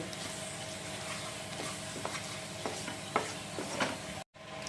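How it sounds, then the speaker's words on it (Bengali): Ground spices fry in a pan for chicken curry while being stirred. A steady sizzle runs throughout, broken by scraping spoon strokes at irregular intervals, close and fairly quiet, with a brief dropout near the end. "আর এখন সমস্ত গুঁড়ো মশলা একবার ভালো করে মিক্স করে নেব।"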